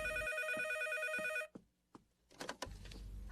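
A telephone rings with a repeating electronic bell tone, two clear ring bursts back to back, followed by a brief pickup clatter and handling noise; no talking.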